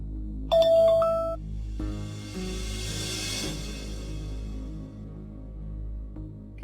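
Phone ringing indoors, an electronic ringtone that starts sharply and then repeats in a steady pattern with fairly tonal, moderate loudness before fading out.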